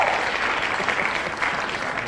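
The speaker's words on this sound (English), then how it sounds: "Can you stop with the applause, please?" Steady applause fills a parliament chamber during nominations for Taoiseach, a dense, continuous patter of many hands clapping at moderate distance, heard without speech.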